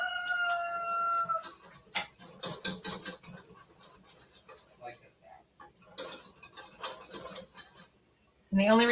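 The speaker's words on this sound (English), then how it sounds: "I'm whisking it like this so it doesn't boil over" A whisk rattles in a pot on the stove in quick metallic bursts, pausing and resuming, with light clinks between strokes and no talk.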